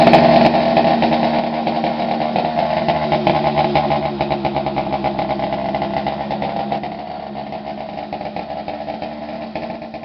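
A small 80cc motorbike engine kit with an upgraded muffler runs steadily and loudly up close, a buzzing, even drone that eases slightly in volume toward the end.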